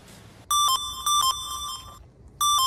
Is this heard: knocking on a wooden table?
no